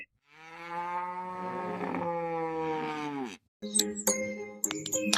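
A long, loud drawn-out moo from a nearby cow, followed by metallic clinks and jingling sounds.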